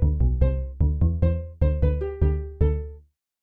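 Minecraft note blocks play a short phrase of Bon Jovi's "Livin' on a Prayer", a string of bright plucked tones in a quick, bouncy rhythm, each decaying fast before the last note fades into silence.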